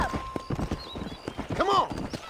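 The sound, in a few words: horse galloping, clip-clop, from video game Red Dead Redemption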